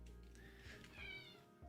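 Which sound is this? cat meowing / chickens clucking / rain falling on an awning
cat meowing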